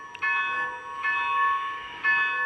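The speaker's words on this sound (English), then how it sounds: "All right, went to bell, a little bell." Small electronic bell of a model Southern Pacific cab forward locomotive, ringing in repeated tonal strokes about twice per second, clear and close with no talking.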